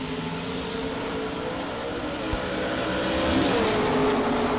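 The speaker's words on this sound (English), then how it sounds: "it's a fast little Miata. It's got wheelie bars." A small Mazda Miata drag car fitted with wheelie bars races down a drag strip at a Texas event, its engine heard at a distance as a steady, droning tone that climbs in pitch and grows louder toward the end.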